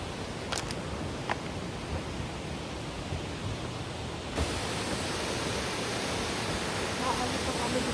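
A waterfall along the Little Beehive hiking trail in Banff roars as a steady, dense rush of falling water, growing louder partway through as it comes closer, with no break.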